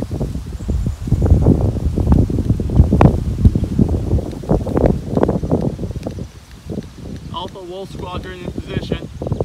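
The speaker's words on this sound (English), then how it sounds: "Why is it so windy?" Strong gusts batter the microphone outdoors beside a Lamborghini, producing heavy, uneven rumbling bursts that rise and fall, with voices talking over them.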